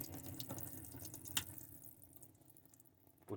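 Water running from a faucet in a Hymer 554 Swing camper van, a soft steady rush with small drips and one brief clunk, fairly quiet and close, with no talking.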